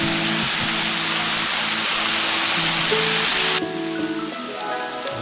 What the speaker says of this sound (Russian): Водопад падает с высоты 18 метров.